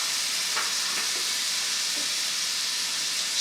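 Shrimp frying in a hot pan, a loud, dense, continuous sizzle up close, with faint stirring taps and no voices.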